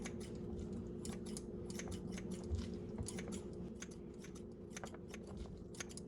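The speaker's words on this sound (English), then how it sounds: "I'm gonna take some kitchen scissors and I'm gonna cut these pretty thin" Kitchen scissors snipping cooked egg roll noodles into thin strips, a rapid run of crisp close-up cuts in an irregular rhythm over a low background hum.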